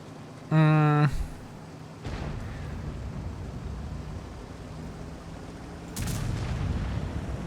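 A tank's main gun fires a single blind shot in World of Tanks, a sharp booming blast followed by a rumbling tail, with a second heavy thud later among the battle noise.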